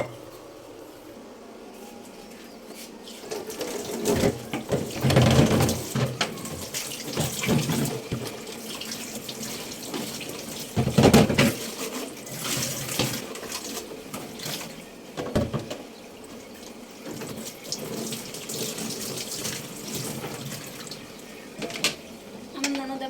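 Tap water running into a sink while dishes and pots are washed by hand, a continuous hiss that swells and fades with splashy bursts, close by, with occasional quiet talk.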